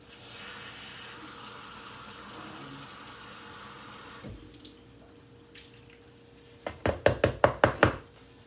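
A kitchen tap runs steadily for a few seconds while cooking, then stops, followed by a quick series of sharp knocks and clatters near the sink.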